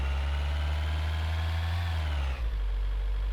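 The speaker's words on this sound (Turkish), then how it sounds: "Yavaşladıktan sonra tekrar çıkarken motorun Hızı falan çok yani ses efektleri falan muazzam geliyor." Simulated truck engine from American Truck Simulator drones steadily at a low idle-like rumble with rising harmonics, then cuts and settles lower near the end; loud and close, no talking.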